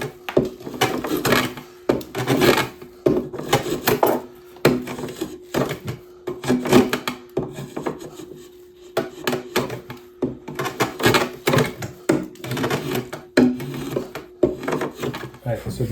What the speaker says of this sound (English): I'll probably start it with the drawknife.